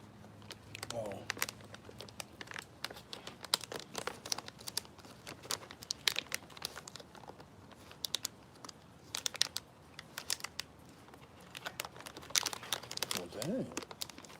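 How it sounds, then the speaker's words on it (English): A plastic Ziploc bag crinkles and crackles in repeated sharp bursts over about fourteen seconds, close by, with people talking throughout. "Ziploc things don't work."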